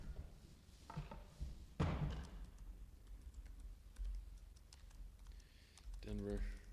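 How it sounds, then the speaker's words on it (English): Keys clatter on a computer keyboard in irregular bursts of close, light clicks, with a louder flurry near the middle and another toward the end, while a person talks in the background. "when you're typing in the meta tags"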